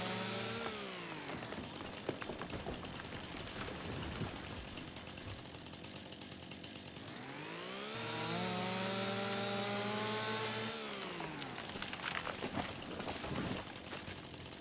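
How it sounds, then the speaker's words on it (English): A chainsaw engine in the video game Farming Simulator 25 drones and revs steadily, rising in pitch as it bites into bushes, loud and close throughout with no talking. "cutting them with a chainsaw is kind of a pain"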